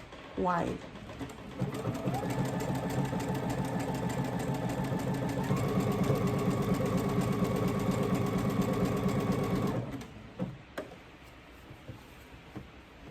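A sewing machine stitches a raglan shirt seam at stitch length 4 and 1 mm width, running in one steady, close, continuous burst of about eight seconds with a brief shift in pitch midway, then stopping.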